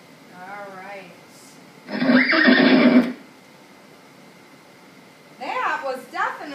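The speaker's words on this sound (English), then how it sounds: "That was definitely the blue horse." Horse neighing loudly at close range in a single burst of about a second, heard between stretches of talking.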